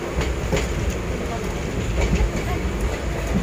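Inside a moving passenger train in India, a steady rumble of wheels on the rails with faint rhythmic clacks runs throughout, while passengers chat in the background.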